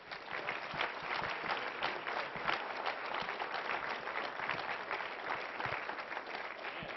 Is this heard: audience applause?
yes